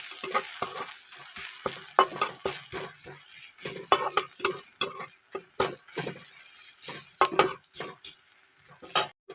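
Browned spices sizzle in a pan as cumin powder goes in, with frequent sharp scrapes and clinks of a spoon stirring against the metal over a soft, constant frying hiss.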